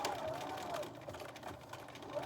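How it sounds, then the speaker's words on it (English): A sewing machine runs steadily, top stitching fabric pieces for a face mask, with a continuous mechanical hum at moderate, fairly quiet level throughout. "we are going to top stitch the pieces together"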